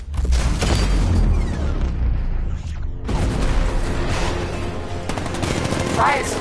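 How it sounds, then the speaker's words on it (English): A 60mm cannon in a Batman video game firing in rapid heavy bursts with booming impacts and explosions, loud and close, briefly dropping off midway before resuming amid battle noise and faint voices. "60mm cannon operational"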